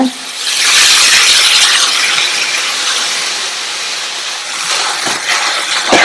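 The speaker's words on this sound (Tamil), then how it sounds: "இதுல நம்ம கட் பண்ணி வச்ச பாலக்கீரையை சேர்த்துட்டு சிம்லயே வச்சு வதக்கி விடுங்க" Chopped palak spinach sautéing in oil over a low simmer, giving a steady broad sizzling hiss that stays close and fairly loud throughout, easing slightly near the end with a few soft stirring knocks.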